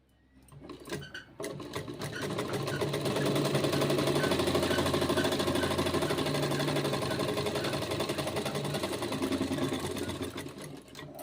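A sewing machine stitches along the edge of a suit in a continuous, fast mechanical chatter lasting about nine seconds after a brief start, close and steady, then slowing at the end.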